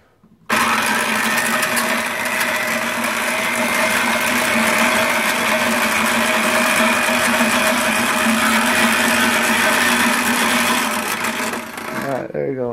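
A like-new White Mountain 6-quart electric ice cream freezer motor switches on and runs with a loud, steady, close-up whirring hum and rattle for about twelve seconds before cutting off.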